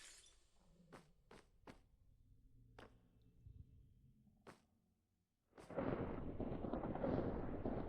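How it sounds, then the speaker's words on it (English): Thunder during a storm in the video game Minecraft: a series of sharp cracks and thuds, then a loud, sustained rumbling roll after a brief quiet, with no talking. "Oh, I hear thunder."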